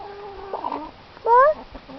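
A chicken being fed clucks nearby in two short bursts, a brief quiet cluck then a louder, clearer one against a faint background.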